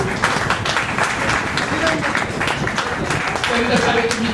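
Applause from guests at a 75th birthday ceremony rolls on continuously, mixed with crowd murmur and voices talking over it throughout.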